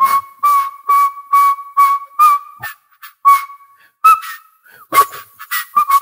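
A person whistles a cheerful tune in clear, bright notes, some held and some short, in a lively rhythm with brief pauses between phrases.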